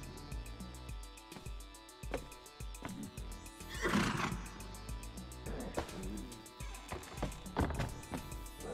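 A horse in the game Conan Exiles whinnies over a busy mix of game music and effects, with a brief neighing burst standing out near the middle.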